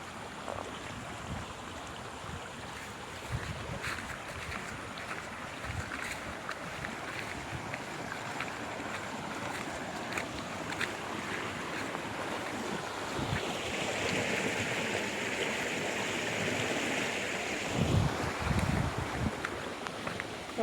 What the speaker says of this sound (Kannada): ಹೇಗೆ ನೀರು ಹರಿತಿದೆ.